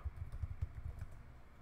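Rapid keystrokes on a computer keyboard as a search term is typed into a FileCloud Drive search box, a steady close patter of clicks with no talking.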